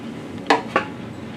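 Two sharp metallic clinks, about a quarter second apart, as mounting screws for an ePort Engage Combo card reader are handled and set back in place, close and otherwise quiet.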